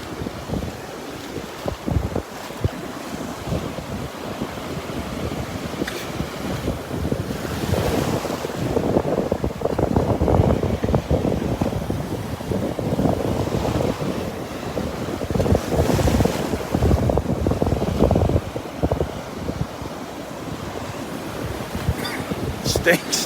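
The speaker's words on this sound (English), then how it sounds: "With all these waves breaking." Ocean waves break on a Gulf beach at Delnor-Wiggins during a morning walk, surging and washing in repeated loud swells under heavy wind buffeting the microphone, with a voice briefly heard.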